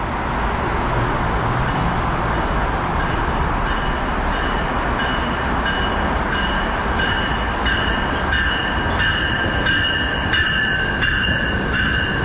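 An MBTA commuter rail train rolls into a platform loudly, wheels and rails roaring steadily, with squealing brakes and high metallic tones rising as it slows to a stop.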